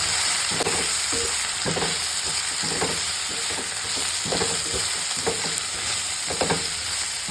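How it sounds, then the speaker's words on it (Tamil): Chickpea curry ingredients sauté in hot oil with a steady, broadband sizzle, punctuated by repeated scrapes and knocks of a spoon stirring the pan throughout, close and fairly loud with no talking. "இதுக்கப்புறம் இதை ஒரு தடவை இப்படி எண்ணெயில் லைட்டாக வதக்கிடுங்க"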